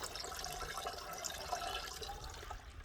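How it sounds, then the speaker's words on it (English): Water draining out of the bottom of a DIY plunger-washer laundry bucket after a pre-soak, a steady rushing, splashing gurgle that runs continuously and fairly close. "and the water is going to drain out of there"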